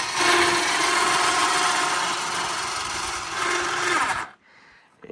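A winch-driven single-axis solar tracker built for windy locations moves its panels, a steady loud mechanical grinding whir running for about four seconds before it cuts off abruptly into near silence.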